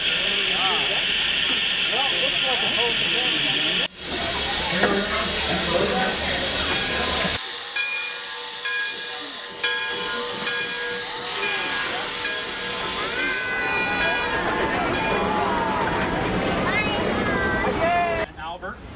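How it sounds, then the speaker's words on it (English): Loud, continuous hiss of steam venting from a nearby gear-driven mountain steam locomotive, with people talking underneath and a brief break partway through. "The steam trains climb very steep hills and they're gear driven"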